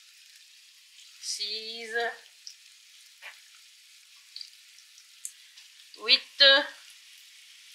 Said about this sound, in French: Et on va les laisser cuire de chaque côté, dorer de chaque côté, en surveillant bien, en retournant bien.